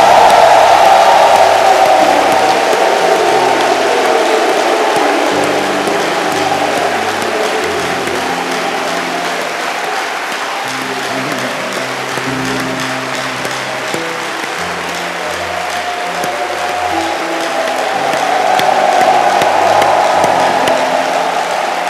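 A church congregation applauding and cheering loudly and continuously in a large room, sustained dense clapping with scattered shouts, steady throughout with a slight swell toward the end.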